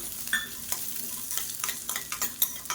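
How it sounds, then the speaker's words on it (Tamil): Fenugreek seeds and small shallots fry in hot oil in a pan, a steady soft sizzle with faint scraping stirs, fairly quiet and with no talk. "இது எல்லாத்தையுமே நல்லா வறுத்துக்கலாம்."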